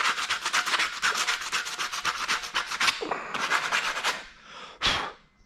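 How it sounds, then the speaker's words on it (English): Sandpaper scrubbing paint off the alloy frame of a 1994 GT Backwoods mountain bike: quick, even back-and-forth rasping strokes up close, pausing briefly before a last burst. "So I'll sandpaper most of it off, but not all of it"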